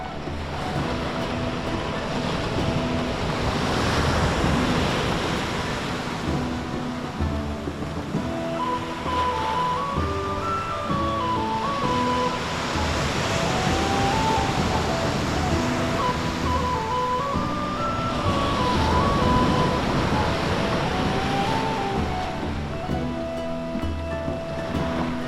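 Surf rolls in steadily on a beach on the Isle of Jura in Scotland, a continuous broadband wash that swells and eases, with some wind and a faint tonal melody running through it.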